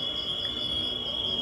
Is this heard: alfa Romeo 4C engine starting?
no